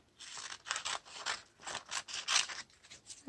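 Scissors snipping through black coffee filter paper in a series of quick, soft, rhythmic cuts, close and faint, with no voices.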